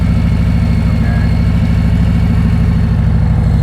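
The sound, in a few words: motorcycle engine idling, throttle going down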